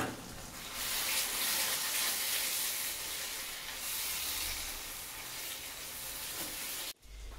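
Spice masala frying in a pan with chicken stock added bit by bit: a steady, bright sizzle and hiss close up, continuous with a brief clatter near the end.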